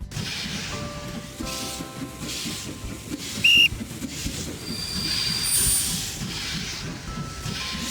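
A train running in a train racing video game, with a steady rumbling hiss of wheels and steam, brief bright whistle-like tones and squealing accents, and game music faint underneath.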